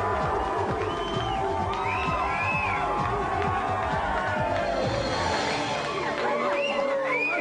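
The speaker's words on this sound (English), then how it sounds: "Please give a big Gamesmaster cheer for the Gamesmistress." A television game show studio audience cheers and whoops for an arriving celebrity guest, a loud sustained crowd roar with scattered shouts and whistles that fades slightly toward the end.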